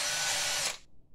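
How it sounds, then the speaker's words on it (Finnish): A drill bores a hole into a car battery cover with a loud, steady high whirring that cuts off abruptly just under a second in, leaving near silence. "Poraa reijät niihin."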